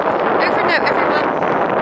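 Steady wind buffeting a microphone on a coastal promenade walk by the sea, a continuous loud rumbling roar with no breaks.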